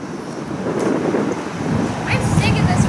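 Wind gusting outdoors on a film set, a steady rushing roar with rumbling microphone buffeting that swells and persists throughout, loud and close.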